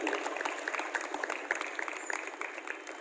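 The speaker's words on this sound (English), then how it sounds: "Give a big vote of applause" Steady applause from an audience at a Republic Day prize ceremony, a continuous wash of many hands clapping at moderate distance with no voices over it.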